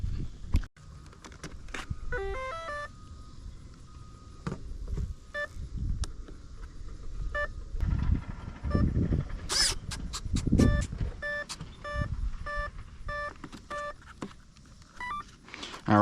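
A string of short electronic tones from the ESC on an E-Flite Viper 90mm RC jet as it initialises with a 6-cell battery, stepped beeps repeating through the clip under low background noise and occasional voices.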